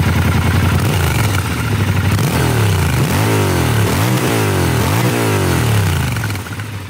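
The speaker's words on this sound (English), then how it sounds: "Triumph do a great job of tuning the exhaust system for a really nice sound" A Triumph Scrambler 1200 XE parallel-twin motorcycle engine revs up and down repeatedly, its deep, throaty exhaust rising and falling in loud, close sweeps.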